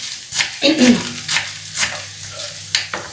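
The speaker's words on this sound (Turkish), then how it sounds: "Bu arada yağım da ısındı. Soğanım kavruluyor." Oil crackles and sizzles in a pan as chopped onions are stirred, with scraping and brief clinks, and a voice speaking faintly underneath.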